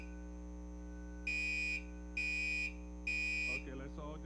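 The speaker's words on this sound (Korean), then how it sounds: "네, 지금 약간 알람이 울고 있어서 멈췄습니다." A building alarm sounds three separate loud, even electronic tones over a low steady hum, followed by brief speech during a church service.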